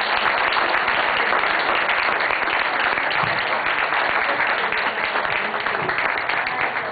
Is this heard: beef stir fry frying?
no